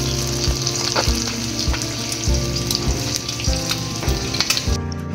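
An egg frying in a pan, a loud close crackling sizzle held steady throughout, with rhythmic low thumps and scrapes of a utensil recurring every half second or so.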